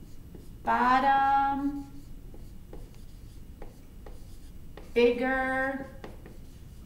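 Pencil scratching on a math worksheet in two bursts of quick strokes, each about a second long, close and clear, with a teacher's voice speaking softly between them.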